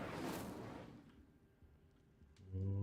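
A fiery Incendio spell from Hogwarts Legacy goes off in a single roaring burst of flame that fades over about a second, then fainter game sounds follow.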